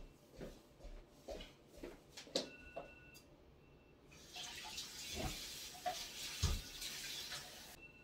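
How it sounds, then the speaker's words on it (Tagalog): Water runs quietly into a pot for cooking rice, a soft steady pour with a few faint knocks and clinks, close by and without talk. "Lagyan ko muna ng tubig."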